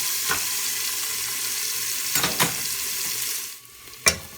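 A medium chopped onion frying in a pan for beetroot sabzi, a loud continuous sizzle with several sharp stirring scrapes, fading briefly before a final clatter.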